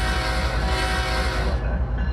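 A train rolls past in the Trainz rail simulator, a loud sustained rumble with a steady horn-like tone layered over it, close and continuous, fading slightly at the end.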